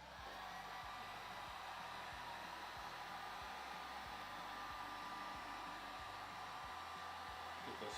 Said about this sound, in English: let's get our heat gun here